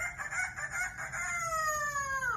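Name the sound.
parrot imitating a rooster crowing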